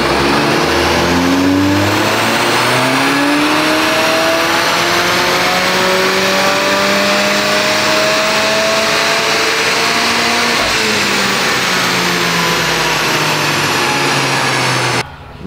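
Modified Ford Focus RS Mk2 engine on a test drive, revving hard through rising gears in long, loud, close pulls that drop and climb again, no talking.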